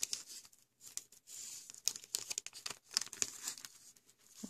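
Wax trading card packs torn open by hand: quiet, close crinkles and several short tearing rips in bursts, with brief pauses between.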